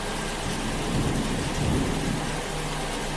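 Heavy rain pours down in a dense, steady hiss while a low thunder rumble rolls underneath, loud and continuous throughout with no voices.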